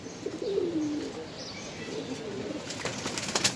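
Pigeons coo at a farm in low warbling calls with a few wing flaps and faint chirps, close by and moderately loud, with no talk.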